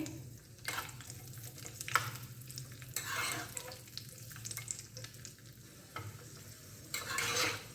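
Cashews and raisins frying in hot ghee for carrot rice kheer, a steady close sizzle with intermittent stirring scrapes and bursts, no talking.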